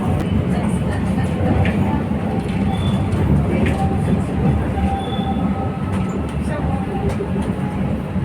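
A train ride in Turkey, heard from inside a rail car: a loud, steady rumble of wheels on track with faint squeals and clicks throughout, and muffled voices in the carriage.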